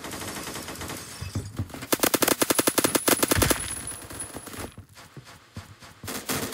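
Rapid automatic gunfire in the Roblox shooter Phantom Forces, a loud burst of evenly spaced shots followed by scattered single shots and game noise, no talk.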